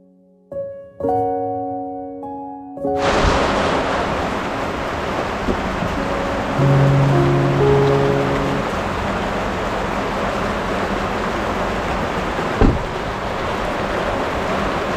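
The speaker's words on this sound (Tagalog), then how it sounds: "Grabe ang lakas ng ulan." Sudden heavy downpour arrives after a few tonal notes, becoming a loud, dense, continuous rain hiss that holds steady, with faint tones and a brief knock partway through.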